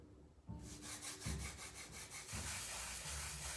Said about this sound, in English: They've got some sandpaper on them and 2 little blocks of wood.